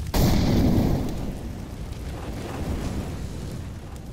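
Grenades going off in the game CS:GO, smoke, flashbang and incendiary: a loud burst opens, then a broad rushing roar slowly fades over the following seconds.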